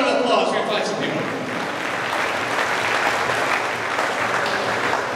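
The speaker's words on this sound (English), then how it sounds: "Give yourselves a round of applause." Audience applause at a hypnosis show at Dreams Punta Cana, a dense, loud burst of many hands clapping that continues steadily throughout, with a voice speaking over it at the start.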